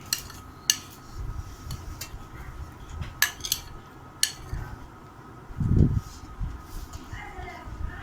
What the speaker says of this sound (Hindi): सबसे पहले हम एक बाउल लेंगे और 1 प्याली जो है वो दही डाल देंगे।